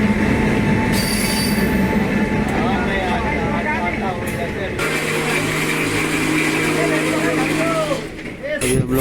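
Train wheels squealing on Indian rails as a train crosses from the outer line onto the main line, shrill wavering screeches and tonal whines riding over heavy rolling clatter and rumble, loud and close throughout.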